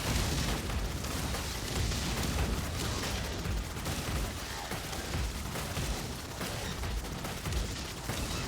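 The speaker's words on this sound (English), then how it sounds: "Pretty explosion." Explosions in the space combat game Subverse go off as a dense, continuous roar of booms and crackling bursts, loud and sustained with no pauses.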